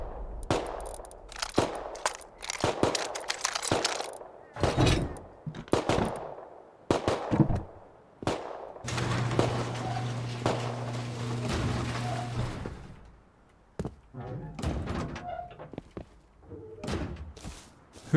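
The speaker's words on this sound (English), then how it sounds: "Who is shooting and why?" Rust video game gunfire: bursts of automatic fire and single shots pop repeatedly, some near and sharp, others farther off, with a low steady hum in the middle stretch and no talk.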